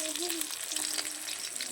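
Koi fish frying in hot oil gives a steady, close, dense sizzle with a soft crackle throughout, with no talking.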